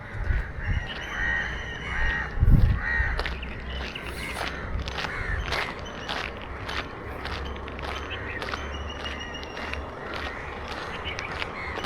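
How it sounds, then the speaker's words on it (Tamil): Crows caw repeatedly around a quiet beach fishing village in Mullaitivu, Sri Lanka, their harsh calls rising above steady low wind and ambient noise, with one louder burst near the start. "காகம் தான் ரொம்ப கரையுது."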